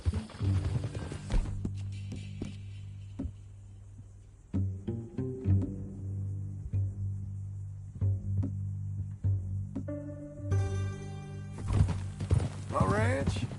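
Rhythmic clip-clop of horse hooves in Red Dead Redemption 2, alongside game music and a brief whinny, with occasional voices mixed in.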